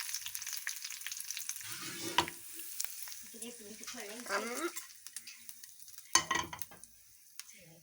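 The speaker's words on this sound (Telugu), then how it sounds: "ఇప్పుడు ఎగిన మునగాకు పప్పులో వేయడమే." Fried moringa leaves with dried red chillies and curry leaves tipped into a pot of dal and stirred, giving a soft sizzle with scraping stirs and a brief clatter near the end.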